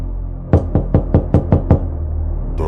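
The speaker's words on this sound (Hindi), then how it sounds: "करीब आधी रात के समय दरवाजे की उस तरफ से आवाज आई।" Seven sharp knocks on a wooden door in the middle of the night, spaced quickly and fairly evenly, loud and close, with quiet room tone before and after.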